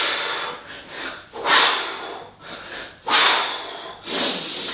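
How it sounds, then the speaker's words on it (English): Forceful, rhythmic breaths during kettlebell swings in a high-intensity workout, with several loud, close exhales repeated about once a second and no talking. "Get that breathing right as you explode up. Breathe out."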